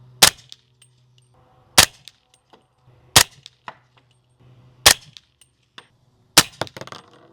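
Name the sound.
suppressed SIG MCX Rattler LT 300 Blackout subsonic gunshots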